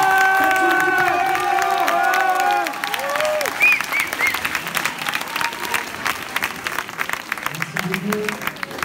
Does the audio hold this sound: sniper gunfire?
no